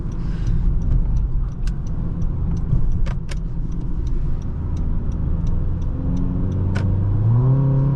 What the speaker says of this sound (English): just a little dose of throttle and it gets right up there